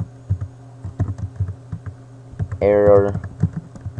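Computer keyboard keys tapped in an irregular run of close, crisp clicks while coding a Cosmos OS console program, with a short spoken word breaking in partway through.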